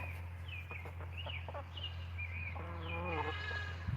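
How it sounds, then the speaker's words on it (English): Goats bleat and chickens cluck and call on a small farm near the woods, several overlapping animal calls at moderate distance over a constant low hum, with a goat's wavering bleat toward the end. "There's the chickens."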